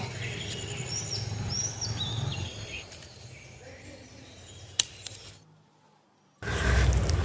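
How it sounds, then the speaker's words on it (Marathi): Birds chirping faintly in the morning open air of a jasmine garden, with a steady background murmur, a short near-silent gap, then a louder rush of noise. "सकाळी सकाळी पक्ष्यांचे आवाज किती मस्त येत आहेत ते बघा."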